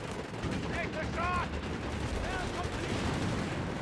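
Battlefield gunfire in Company of Heroes 3, with a Greyhound armoured car engaging a Panther tank: a steady clatter of shots and rattling fire under a rumbling din, with a voice talking over it.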